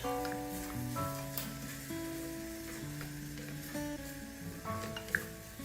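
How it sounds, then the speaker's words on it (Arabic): Onion frying in oil in a pan as filling for a Tunisian makloub sandwich. A low, continuous sizzle sits beneath steady tonal music, with one sharp clink near the end. "نحطوا بصل في الزيت نقليوه شوية"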